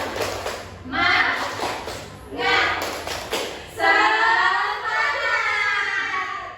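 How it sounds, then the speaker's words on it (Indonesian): A classroom of pupils performs the rhythmic 'tepuk semangat' clapping chant, with short bursts of group claps between stretches of children's voices chanting and talking. "ayo kita tepuk semangat dulu. Tepuk semangat."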